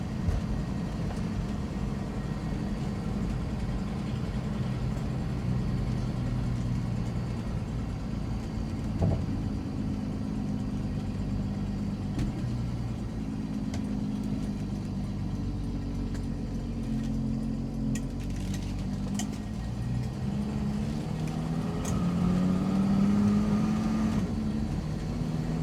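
A 1967 Mustang with a newly installed timing chain drives along, its engine giving a steady low drone and rumble for nearly half a minute, with subtle rising and falling tones near the end.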